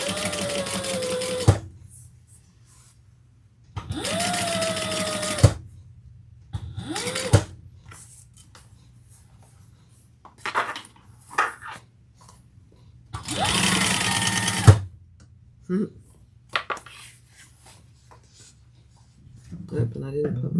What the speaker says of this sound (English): You're just really stitching that seam flat.